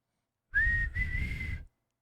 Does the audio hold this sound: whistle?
yes